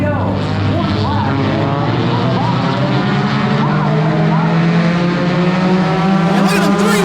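Bomber-class race cars run three wide at New Smyrna Speedway, a loud sustained roar of several engines with rising and falling whines as they pass, while a commentator talks over it.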